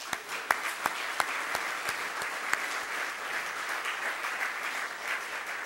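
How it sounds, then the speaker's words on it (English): An audience at a city's State of the City address applauds the police department, with steady dense clapping and a few sharper individual claps standing out, sustained for several seconds without talk. "A round of applause for our PD."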